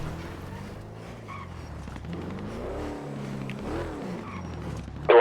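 Car in a video game driving on a burst tyre, a revving engine that rises and falls, with some skidding and a sharp knock right at the end, no speech over it.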